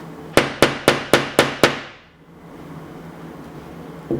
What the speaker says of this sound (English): and then you're gonna hammer